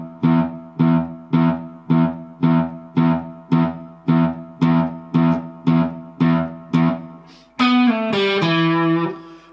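Electric guitar with distortion playing a riff: a string of evenly spaced, short repeated notes, about twelve clipped stabs, ending on a longer sustained note that slides and rings out.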